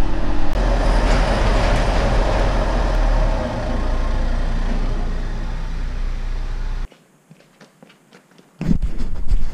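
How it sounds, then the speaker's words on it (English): A Ford Mustang being pulled out, its engine and road noise rumbling loud and close for about seven seconds, then cutting to near silence before the rumble returns briefly. "I'm gonna go ahead and pull out the Mustang."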